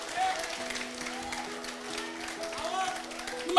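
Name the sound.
congregation applauding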